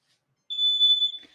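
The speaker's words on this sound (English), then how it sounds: "Got the timer going off, got the fire alarm going." A smoke alarm in a home kitchen sounds a single sharp, piercing electronic beep, loud and close, cutting off abruptly.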